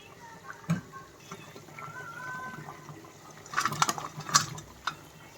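Water poured into a pot of beef and vegetable curry, with quiet splashing and a couple of brief louder gurgling bursts, faint and close in an otherwise quiet kitchen.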